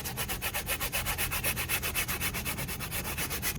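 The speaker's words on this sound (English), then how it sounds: "It's just a stiff bristle brush. We're gonna give it a little scrub," A stiff bristle brush scrubbing a stain out of carpet, making a steady, rapid back-and-forth rasping with an even rhythm of strokes, close and continuous, with no voices.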